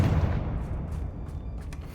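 A Confringo fire spell in Hogwarts Legacy lands as a dense, rumbling low blast that holds steady through the whole moment, with fainter crackling bursts above it.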